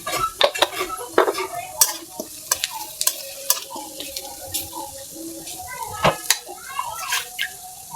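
Chili, coriander and radhuni powder are stirred and fried in a pan for a village-style shapla stem and small shrimp dish, with repeated sharp scraping clatters of the spoon over a soft, continuous sizzle.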